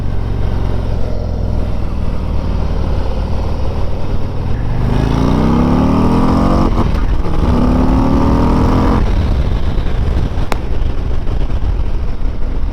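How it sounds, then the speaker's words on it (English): A 2021 Harley-Davidson CVO Road Glide accelerates hard, its engine note climbing through rising gear pulls over constant wind rush, loud and close with no talking. "The bike pulls hard."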